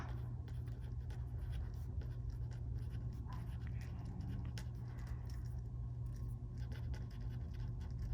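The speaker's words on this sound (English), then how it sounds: "I'm writing out the first one." Pen scratching across paper while working out a fraction division problem, a steady faint scribbling texture that runs continuously over a low room hum.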